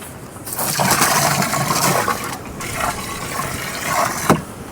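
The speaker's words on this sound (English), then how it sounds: "while I'm waiting for the water to fill" Water pours steadily into a cattle trough on a farm, a continuous rushing gush that stays fairly loud and close throughout, with a brief knock near the end and no talking.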